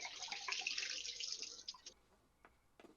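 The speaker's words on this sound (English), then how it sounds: "You can listen to me pour this stale water." Stale water poured out, a close splashing trickle for about two seconds that then breaks into a few scattered drips.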